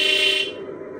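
The horn of a 1/12-scale remote-control hydraulic Komatsu PC360 excavator model sounds as a loud, buzzy electronic tone that drops in brightness halfway through and keeps droning for about a second.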